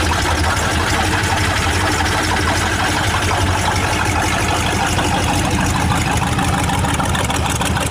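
A 1930 Ford Coupe engine with an electric fuel pump runs steadily at idle, a loud, continuous, close-up rumble with a rough, even churn and no talking.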